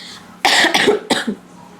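Two harsh coughs close to the microphone, a longer burst followed by a shorter one, then quiet.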